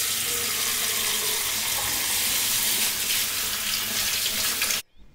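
Small fish are rinsed under hot running tap water in a Gulf kitchen sink. A steady, close rushing hiss of water plays alone, then cuts off abruptly near the end.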